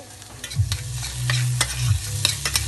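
Shallots and garlic, cut in brunoise, stirred and gently sweated in a pan, a soft low sizzle under a few close scraping strokes of a spoon, with no talk.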